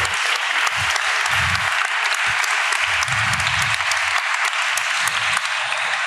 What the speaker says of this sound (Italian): qui ci vorrebbe un applauso ulteriore per me.